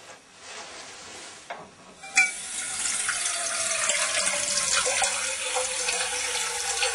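Water pours into a vessel during a water resistance test of a clock, with a soft start and a brief clunk, then a loud, steady, hissing rush of water for several seconds.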